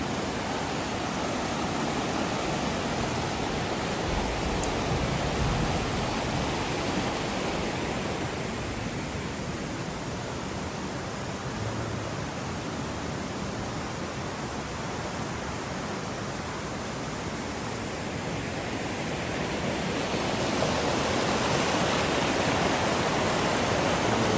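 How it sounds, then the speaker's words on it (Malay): A steady, broadband rush of flowing water at a resort continues unbroken, loud and close, with no voices over it. "Ha, dengar tak punya air tu."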